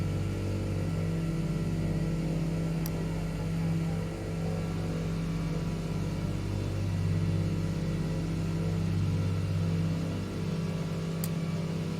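Engine of a Douglas DC-3 in Microsoft Flight Simulator 2020, a steady low droning rumble that holds at an even level throughout, with no talking.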